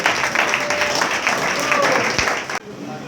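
A church congregation claps and cheers in praise during a men's department service, a dense and steady wash of applause with crowd noise that cuts off abruptly near the end.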